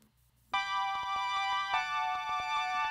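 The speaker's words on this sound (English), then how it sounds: "Arturia CMI, which is the Fairchild emulation that they have on the ensemble setting, which sounds like this on its own." Arturia CMI software synth, a Fairlight emulation on its ensemble preset, plays bright sustained chords alone after a half-second of quiet, with rhythmic note attacks pulsing through the held tones.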